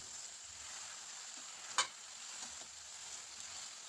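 Spinach leaves and stalks are tossed into hot spices in a frying pan, giving a steady sizzle with a sharp clatter of the spoon partway through and softer stirring scrapes after, with no talk.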